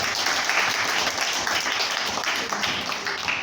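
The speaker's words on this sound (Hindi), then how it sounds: "गुड, ताली बजाने के लिए।" Schoolchildren clapping together in a classroom at a government girls' senior secondary school, a steady, loud round of applause that carries through the whole moment without pause.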